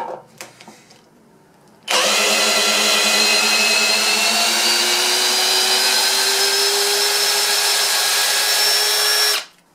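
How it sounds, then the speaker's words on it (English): A ToolPRO 18v hammer drill spins up abruptly and whines at a steady high pitch for about seven seconds while backing out screws, then cuts off, after a few quiet handling taps. "The ToolPRO Hammer Drill."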